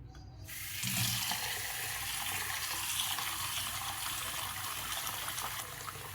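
Steady running water from a tap splashes into a vessel of lentils and rice being washed, without pause, close by, with a brief clatter at the start and no voices.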